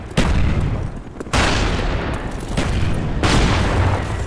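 In Call of Duty Black Ops multiplayer, an artillery strike lands as a rapid series of four heavy booming blasts, each followed by a rolling, crackling rumble, loud and close.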